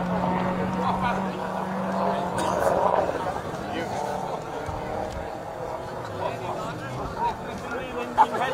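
Rally car number 94 on a special stage in Wervik passes by with engine noise rising and falling under a commentator's continuous talk, plus some closer mechanical sounds toward the end.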